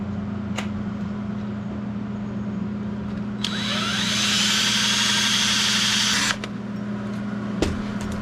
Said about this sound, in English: So I'm going to drill a hole.